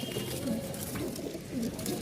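Pigeons, including feather-footed Rajshahi birds and a pair of Ghonbaji pigeons, coo softly in low, rolling calls repeated against a steady background hiss.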